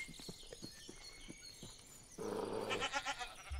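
A goat bleats on a farm, a few short cries at first and then a louder, sustained wavering bleat near the end, with faint insect chirring and outdoor ambience behind it and no talking.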